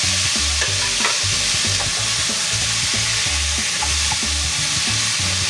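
Chopped tomatoes sizzle loudly in a hot pan for a chicken dish, with a continuous hiss of frying and repeated scraping strokes of a spoon stirring in a steady rhythm.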